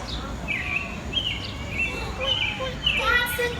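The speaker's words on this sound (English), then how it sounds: "That's a chirping bird." Short, high chirping calls of a bird repeat several times over a steady outdoor background hiss, fairly near and moderately loud, with no speech.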